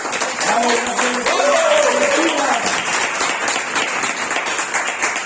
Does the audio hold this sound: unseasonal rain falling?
no